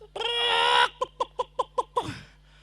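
A human voice imitates a chicken: one long, drawn-out squawk, then six quick, evenly spaced clucks and a final squawk, close and clear against silence.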